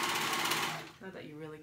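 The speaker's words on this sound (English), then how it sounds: "we're gonna sew them close to make it one continuous band" Sewing machine stitching the ends of a fabric band together for a tank top, a short loud mechanical whir that slows and fades within about a second, followed by a faint trailing tone.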